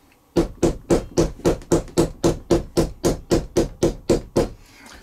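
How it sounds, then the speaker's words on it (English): A nylon mallet taps down hand-stitched leather seams on a leather phone case, sixteen evenly spaced, fairly loud thuds in a steady rhythm with no talking. "take your nylon mallet and just tap everything down"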